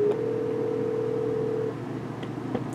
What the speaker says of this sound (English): I'm gonna call it from my cell phone or from Skype.